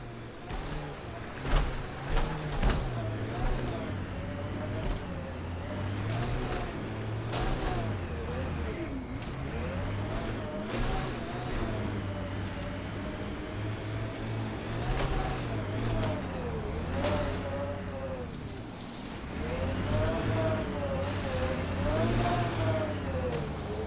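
The Nomad all-terrain vehicle from Mass Effect Andromeda rolls down a mountainside, its engine droning steadily with shifting revs and scattered thumps and clatters over the rough ground, close and continuous throughout.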